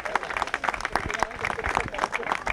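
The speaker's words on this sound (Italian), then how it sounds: "Facciamo un applauso in ricordo di Aimone Finestra." Audience applauding at a sports awards ceremony in memory of Aimone Finestra, a steady patter of many hands with cheering and voices mixed in.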